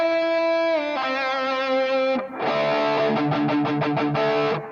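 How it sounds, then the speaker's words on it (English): Electric guitar through an overdrive pedal plays a sustained, harmonically rich distorted note that bends and shifts as the expression pedal sweeps, then breaks into a run of choppy, pulsing overdriven chords, loud and close with no talking. "Let's bring up the guitar."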